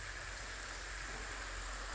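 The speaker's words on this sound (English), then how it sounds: "So I'm just giving a good healthy watering" A farm garden is watered with a steady, even hiss of spray falling on plants and soil, faint and constant with no breaks.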